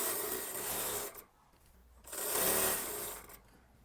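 A sewing machine stitches the kali panels of an Anarkali kurti, running in two steady whirring bursts with a short pause between them, loud and close.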